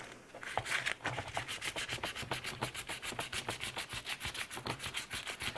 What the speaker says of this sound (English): You're just kind of sitting down in your shop, just sandpapering away.